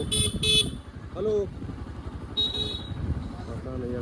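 A motorbike riding through a hilly area near Parasnath, its engine rumbling at moderate level beneath talking voices, with a few short horn toots from passing traffic.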